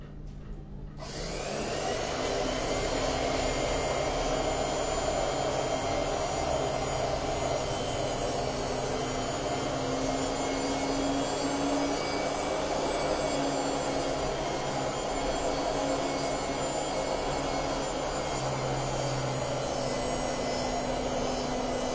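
Cloth cutting machine slicing through a thick stack of fabric laid out for jubah garments: a steady, loud motor whine with a constant buzzing drone that starts abruptly and runs unbroken, with no talk over it.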